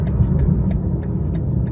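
A car drives down a narrow country lane, its engine and road rumble steady and close throughout, with faint periodic ticks over the low drone.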